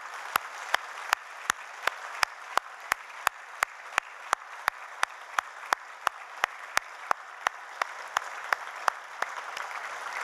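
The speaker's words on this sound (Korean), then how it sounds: "부모님들이 먼저 자녀들을 향해서 뜨겁게 박수 한번 해주십시오." A church congregation at an evening baptism service gives warm, steady applause. Sharp, regular claps sound at an even rhythm and keep up for about ten seconds, with no talking.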